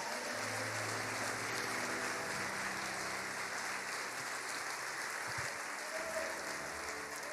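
A church congregation applauds during a service, broad even clapping held at a moderate, slightly distant level, with a low sustained tone underneath.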